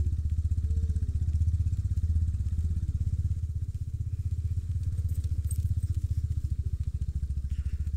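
A motorcycle rides over a rough, bumpy road with a steady, pulsing low engine rumble, continuous and close, with faint rattles and thuds from the jolting ride.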